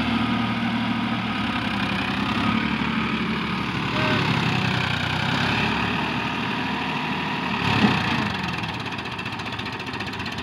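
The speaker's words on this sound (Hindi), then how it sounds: "काफ़ी ज़्यादा RPM ड्रॉप कर रहा है इतना बड़ा ट्रैक्टर होके भी।" A large tractor engine, a Euro 439 or Farmtrac 60, labors loud and close under heavy load while pulling a trolley, its steady roar sagging as the RPM drops, with a brief surge near the end.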